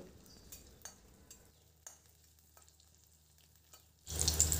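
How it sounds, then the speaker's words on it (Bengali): Ginger, garlic, onion pieces and green chilli fry in hot oil for a peanut chutney, a soft crackle with faint clinks at first, then a loud sharp sizzle bursting up near the end. "গরম হওয়ার পর তার মধ্যে দিয়ে দিলাম আদা, রসুন, পেঁয়াজের টুকরো আর কাঁচা লঙ্কা"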